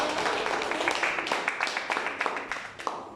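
Classroom applause for a student group after their presentation, a scattered run of hand claps filling the room and gradually thinning out.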